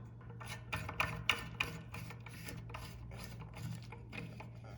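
A plastic nut is twisted by hand onto a toilet tank lever, making a close series of dry rasping, rubbing scrapes in an uneven rhythm of about ten short strokes with a faint steady hum underneath.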